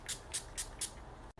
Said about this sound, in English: So if you're oily, just spray it here, not here, and you will love it.